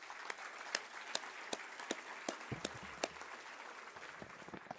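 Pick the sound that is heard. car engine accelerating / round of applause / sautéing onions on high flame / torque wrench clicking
round of applause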